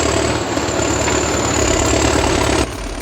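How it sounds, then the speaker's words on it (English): A T130 forestry bulldozer's engine runs choked and labouring, a loud, dense, continuous rumble with a rough knock that drops slightly in level just before the end. "The engine sounds choked, possibly a clogged air filter or turbine trouble."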